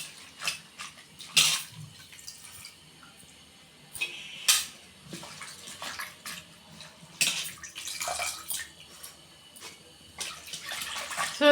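Spinach greens, a mix of siru keerai and sorrel leaves, are rinsed and swished in water, producing intermittent splashes and sloshing bursts with soft clinks of a vessel, close and moderately loud, with no talking.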